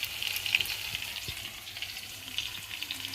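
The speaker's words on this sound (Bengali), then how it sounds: "পেঁয়াজটা ঘিয়ে ভাজছিলাম, তার সাথে একটু আদা রসুন পেস্ট দিলাম" Onion with ginger-garlic paste frying in ghee for a chicken ghee roast, a steady soft sizzle with faint stirring scrapes, close and alone without talk.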